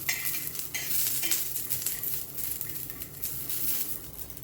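Peanuts and garlic cloves roast in hot oil for a green chilli thecha, with a steady close sizzle and frequent stirring scrapes throughout, no voices.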